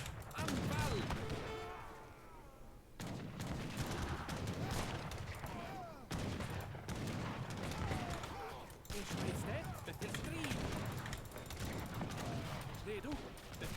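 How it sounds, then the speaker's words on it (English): Units open fire on a building in Age of Empires III: Definitive Edition, with rolling musket volleys and crackling gunfire that come in waves every few seconds over a steady, busy battle din. "Stop firing on that building"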